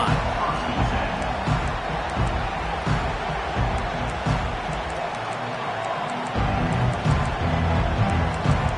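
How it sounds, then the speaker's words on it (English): Stadium crowd in a football video game, a dense continuous roar of cheering that swells and dips slightly, with a commentator's voice over the top. "This crowd, full throat, splitting the eardrums"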